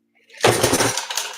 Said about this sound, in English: and we're knocking everything over.